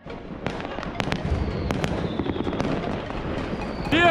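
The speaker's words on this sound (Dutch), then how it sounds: "Overal vuurwerk al!" Fireworks burst on New Year's Eve in Rotterdam: a dense, continuous crackle with scattered sharp bangs that come from all directions at varying distances, over a drizzle. Near the end, a whistling rocket rises close by.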